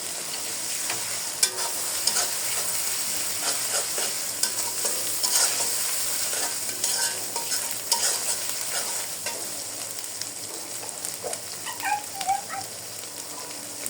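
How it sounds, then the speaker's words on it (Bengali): Soft sizzling and frying crackle of ginger-garlic paste added to fried onion in a pan, with scattered stirring scrapes and clinks over a steady hiss. "ভাজা হয়ে গেছে, দিয়ে দিলাম আদা রসুনের পেস্ট।"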